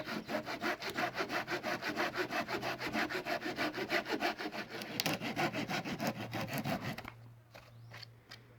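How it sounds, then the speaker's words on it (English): A hand saw cutting through a section of wood for a bow drill hearth board, with rapid, rhythmic back-and-forth strokes, close and steady, ending as the piece comes free, followed by a few faint knocks. "Alright, so I cut off my first section."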